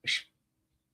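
A single short, sharp sneeze close by, followed by silence and a tiny sound at the very end.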